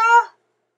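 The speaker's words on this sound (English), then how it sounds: "I hope you heard a meow" A pet cat's single short meow, close and clear, with a bright harmonic tone lasting about a third of a second before silence.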